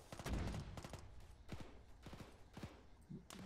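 Gunfire in a military video game battle, with a quiet series of sharp shots and short bursts scattered over a few seconds and heard at a distance.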